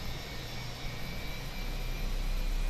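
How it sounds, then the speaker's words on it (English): Airplane in Microsoft Flight Simulator, sitting at the gate during a shared-cockpit flight from ESSA to EKCH, giving a steady, fairly quiet engine hum with a low rumble and a faint high whine throughout, with no talk. "The airplane just arrived too."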